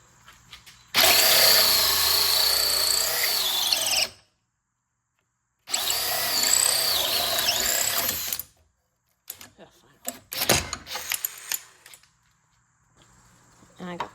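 A DeWalt cordless drill on speed 2 with a 5 amp-hour battery drives a small light screw in two long, loud whirring bursts separated by silence, followed by scattered clicks and handling noises.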